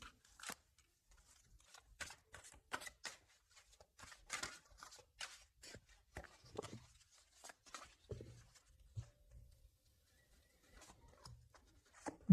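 Oracle cards are handled and shuffled at close range, a run of short, crisp slaps and rustles with quiet gaps, and the handling thins out toward the end.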